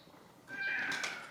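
A single cat meows once, a short drawn-out call rising and fading over about a second, after a quiet lead-in of faint room hiss; close and clear, no talk.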